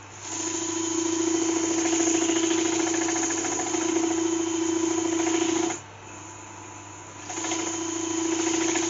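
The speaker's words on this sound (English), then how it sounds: "I'll just quickly sand that down." Lathe spinning a spalted beech platter while 240-grit sandpaper is held against it, a steady loud whirring hum with rattly texture that briefly drops away near the end before resuming.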